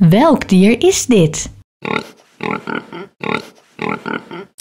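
A voice asks a short question, then a pig grunts and oinks repeatedly in quick rhythmic bursts, close and fairly loud.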